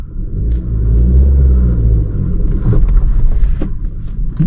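A car engine in first gear rumbles on a steep uphill climb, a steady low drone that rises slightly in effort midway, close and loud with faint mechanical clicks on top.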